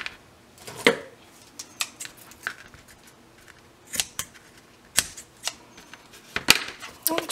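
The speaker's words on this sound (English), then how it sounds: "I need some good scissors to cut that." Several sharp scissor snips cut through fabric in irregular bursts, close and crisp, with quiet pauses between the cuts.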